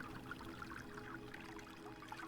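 A small water feature in the game Heaven's Vault trickles and pours in a soft, continuous stream, quiet and even throughout, with no voices present.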